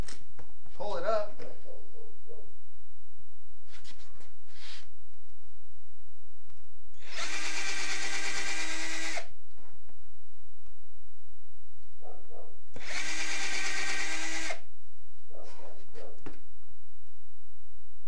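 A cordless drill drives a screw into a workshop piece in two loud whirring bursts of about two seconds each. Quiet handling noises and brief talk sit between the bursts.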